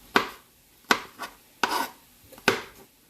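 A knife chopping peppers on a board at home: four sharp, distinct chops spaced under a second apart, close and crisp, with a few softer scraping taps between them and no talking.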